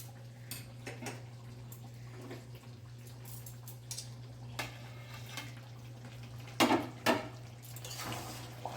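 Chicken and potato curry is stirred in a pot on a home stove, with scattered clinks and scrapes of a utensil against metal over a steady hum, louder knocks near the end.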